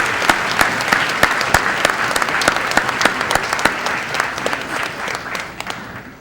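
A luncheon audience applauds a choir with steady, dense clapping that carries on loudly for several seconds, individual sharp claps standing out before it begins to thin at the end.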